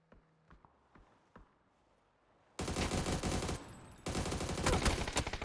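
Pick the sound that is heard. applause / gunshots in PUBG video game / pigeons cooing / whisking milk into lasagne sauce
gunshots in PUBG video game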